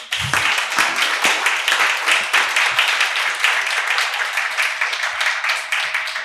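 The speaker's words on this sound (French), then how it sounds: "Ça mérite des applaudissements." At a live evening show recorded for a Twitch stream, the audience gives a steady round of clapping that lasts about six seconds, dense and even, with a few sharper individual claps standing out.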